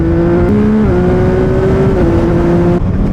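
A CFMoto 675 SR-R sport motorcycle, 2025 model, accelerating hard with engine tone rising and stepping up through quick-shifter upshifts, loud and close, with no talking.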